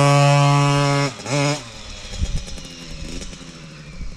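A KTM 50 SX Mini dirt bike with its clutch being set up, holding a high steady rev, dipping briefly, then launching hard from a start line and pulling away into a fading, rough engine note.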